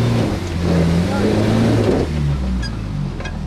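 Engine of a Nissan Patrol 4x4 running steadily after a CV joint repair, a continuous low rumble with shifting revs, heard close and loud throughout, with faint wind and a voice mixed in.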